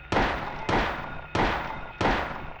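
Four evenly spaced, booming gunshots, each with a short echoing decay, fired in the PS1 game Silent Hill inside an elementary school.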